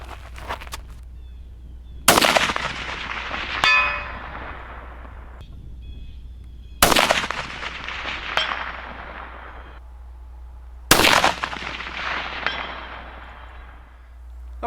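Three sharp, loud Howa rifle shots fired at a target 385 yards away, evenly spaced about five seconds apart, each with a long rolling echo. A fainter clang follows the first shot.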